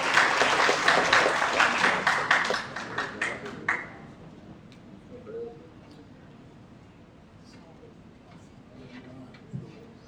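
Applause at a police performance awards ceremony in a hotel hall, a crowd clapping briskly and fairly loud before tapering off into scattered claps and room murmur.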